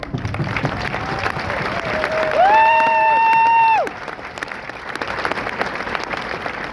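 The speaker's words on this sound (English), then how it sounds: "Ladies and gentlemen, would you join me in a round of applause" Steady applause from a crowd at a Marine graduation ceremony fills the scene, with a sustained whistle-like tone rising briefly in the middle before the clapping continues.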